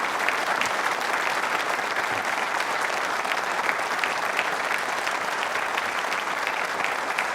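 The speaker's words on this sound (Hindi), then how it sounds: "तालियां बजाइए अपने सम्मान में जोरदार तरीके से।" Vigorous applause from an audience of trainee state civil services officers at a quiz show, thick and continuous clapping that stays loud and steady for over seven seconds.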